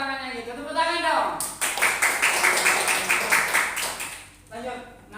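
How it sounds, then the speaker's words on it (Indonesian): A group claps together in a classroom, a steady flurry of hand claps at close range lasting a few seconds, with a teacher's voice before and after. "Masa tepuk tangannya gitu? Tepuk tangan dong."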